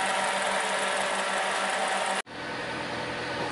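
A car engine idling after its throttle body was replaced holds a smooth, even hum with no surging. The sound cuts out abruptly for a moment partway through, then resumes steadily. No talking.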